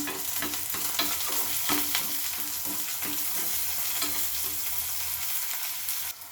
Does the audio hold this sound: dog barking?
no